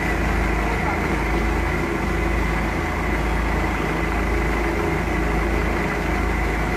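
A tractor engine rumbles steadily and loudly in an Indian rural setting, a constant low drone throughout, with a person talking over it.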